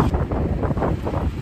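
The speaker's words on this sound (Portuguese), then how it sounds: "Não sei se vocês estão me ouvindo porque tá ventando." Strong wind buffets the microphone outdoors in a snowy town square in Bariloche, a continuous low rumbling roar with gusting surges and no voices.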